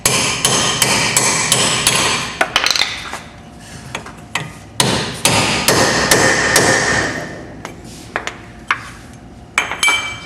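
A length of pipe hammered against a brake dust cap to seat it during a front drum-to-disc brake conversion: repeated sharp metallic blows in bursts, loud and close, with short pauses between strikes.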